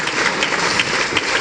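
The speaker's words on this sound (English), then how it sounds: "can we please rise and give the Honorable Minister a very, very big round of applause" An audience at a Nigerian ministerial platform session claps for the Minister of State for Defence, a dense, loud burst of applause filling the room without pause.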